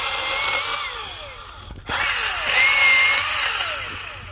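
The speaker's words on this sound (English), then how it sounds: "Let's get this sucker cut up into firewood." A chainsaw cuts a felled tree into firewood, its high whining engine running loud and close, breaking off for an instant before surging back and rising in pitch as it bites.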